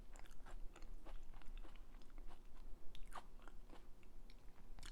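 Someone bites into an apple slice topped with walnuts and chews, giving repeated soft crunches over a close, low background.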